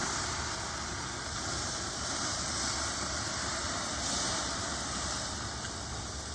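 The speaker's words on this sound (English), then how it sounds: "watch for the hot steam," Water poured onto hot charcoal in a homemade yakitori grill hisses as steam, a steady broadband hiss held evenly throughout at moderate volume.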